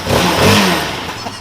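A motorcycle fitted with a quiet exhaust revs up once, a muted mid-pitched engine roar that rises quickly, then settles back toward idle with a faint clatter, close by.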